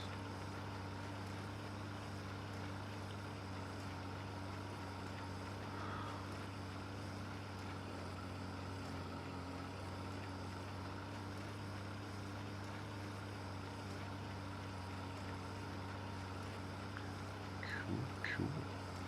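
A tractor engine in the Farming Simulator video game drones at a steady, low, unbroken pitch for the whole stretch, with faint clicks near the end.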